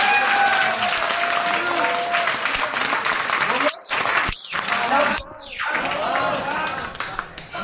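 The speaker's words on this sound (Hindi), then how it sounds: "एक बार अपने लिए जोर से ताली बजाओ" An audience at a trade centre seminar in Ludhiana, Punjab claps loudly for itself, a thick continuous wash of applause with a few brief dropouts and some voices mixed in.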